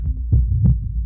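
A heartbeat sound effect: two deep, thumping beats, close and resonant, with a faint murmur-like swish between them.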